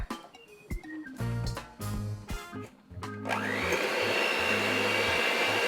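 Butter and sugar being mixed in a large bowl for a s'mores pie: a few sharp knocks and short whirs, then an electric mixer settles into a loud, steady whine.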